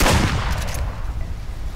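A single loud, close gunshot in the video game Duck Season, a sharp burst that quickly decays into a low rumbling tail.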